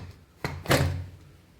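Two quick metallic thunks as a pressure cooker lid is pushed shut and locked, close and fairly loud in a quiet room.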